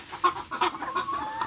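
Backyard chickens kept for eggs cluck in short, irregular bursts, close and moderately loud, with no talking.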